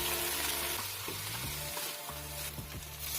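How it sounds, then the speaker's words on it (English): Sliced capsicum and carrots sautéing with onion in a hot pan, a steady close sizzle with occasional stirring scrapes and no talk. "Add the capsicum and carrots and cook for another 2 minutes."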